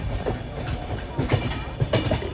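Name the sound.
passing train on rails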